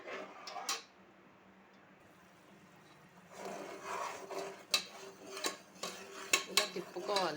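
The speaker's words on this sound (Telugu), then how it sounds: "ఇలా తిప్పుకోవాలి తీగ పాకం వచ్చినంత వరకు." A spoon stirs thick sugar syrup for Mysore pak in a heavy pressure cooker pot, giving a quiet stretch followed by irregular metallic scrapes and clinks against the pot, close and fairly faint.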